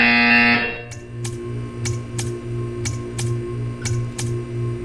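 A short electronic buzz in the video game Portal 2 sounds first, then gives way to a steady series of sharp ticks repeating over a low background hum.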